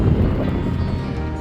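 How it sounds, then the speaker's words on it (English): Cold wind gusts steadily across a high, snowy mountain trail in the North Cascades, a loud, continuous low roar buffeting the microphone with no voices. "that wind is cold"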